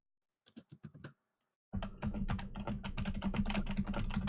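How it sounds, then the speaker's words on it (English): Typing on a computer keyboard during an online tabletop RPG session, heard as a short burst of keystrokes, a pause, then steady rapid clattering over a low background hum. "Typing it all up."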